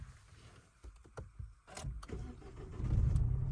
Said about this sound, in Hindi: जैसा कि इसमें 3 सिलेंडर इंजन मिलता है, तो एक बार गाड़ी को स्टार्ट कर दो